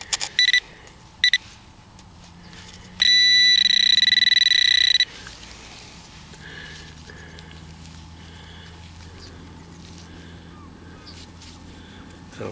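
A metal detector signals a find at a medieval site in Cumbria with a loud, steady electronic tone lasting about two seconds, set apart from a few short beeps and quiet outdoor background.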